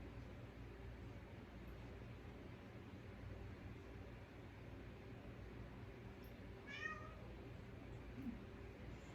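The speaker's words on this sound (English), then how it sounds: "I got my little cat who desperately wants to come in" A house cat meows to be let in, a single faint call from outdoors or beyond a door, short and rising, over a steady low hum.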